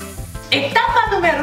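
Bell pepper pieces drop into a garlic-onion mixture in a pan and set off a sudden bright sizzle that continues steadily, with a few knocks and a voice heard at the start.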